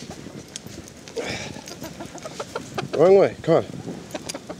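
Chickens cluck and squawk up close during a rescue, with a couple of loud, agitated calls standing out while a person urges them along.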